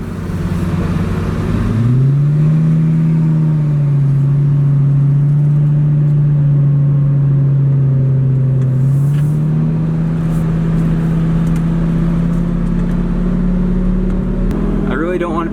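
A supercar engine pulls hard up a hill, its deep droning note rising as it accelerates and holding a loud, steady growl for most of the stretch, ending with a brief rev.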